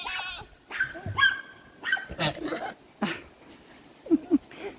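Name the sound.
goat spitting noise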